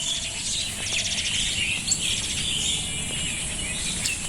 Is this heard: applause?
no